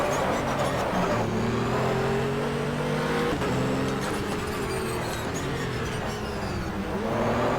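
Race car engine in the GTR2 racing game, an endurance-style prototype at Zandvoort, droning steadily with rising and falling revs and gear changes, fairly quiet and continuous without speech.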